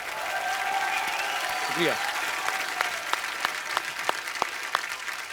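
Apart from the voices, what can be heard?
applause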